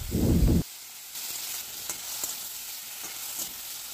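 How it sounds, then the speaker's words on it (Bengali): Tomatoes with a little salt fry in a pan, a soft steady sizzle with a few light stirring scrapes, preceded by a brief louder clatter at the start. "টমেটোগুলো দেওয়ার পর সামান্য একটু নুন দিয়ে এটা ভালো করে ভেজে নিতে হবে"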